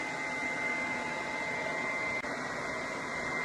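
A hood hair dryer runs steadily, a constant broadband whoosh with an even whine, unchanging for a few seconds, close and moderately loud, with no talking.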